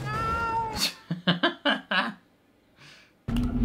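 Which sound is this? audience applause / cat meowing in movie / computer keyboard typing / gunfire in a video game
cat meowing in movie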